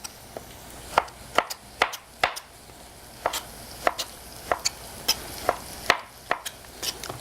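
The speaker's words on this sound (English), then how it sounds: "we're just going to chop our tomato, or just cut it into big pieces" Knife cutting a tomato into big pieces on a board, a series of sharp distinct chops at an uneven pace, fairly close, over a faint background hiss.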